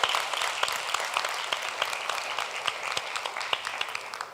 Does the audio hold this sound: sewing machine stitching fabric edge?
no